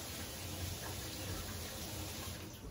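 Tap water running steadily into a container while dog shampoo is being mixed for grooming, a continuous close rushing hiss with no talk over it.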